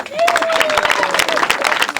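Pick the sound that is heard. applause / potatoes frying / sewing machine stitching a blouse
applause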